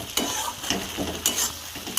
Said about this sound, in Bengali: আমি এটাকে ভালো করে এবার কষিয়ে নেব।